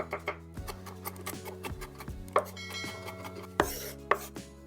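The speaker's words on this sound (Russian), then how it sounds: "чеснок, режу средними кусочками." A knife chops garlic on a cutting board in a steady series of sharp, close taps, with soft background music underneath.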